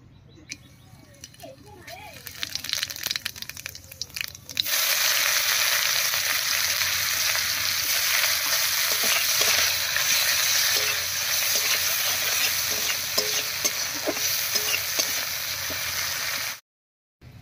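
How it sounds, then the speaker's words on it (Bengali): Whole garam masala, cumin seeds and chopped onion hit the hot oil left from frying fritters for a cauliflower and egg curry, raising a loud, steady sizzle that runs about twelve seconds after quieter kitchen sounds, then cuts off. "এবারে বড়া ভাজার এই তেলের মধ্যে ফোড়ন দেব, আর ফোড়ন দেব গোটা গরম মশলা,"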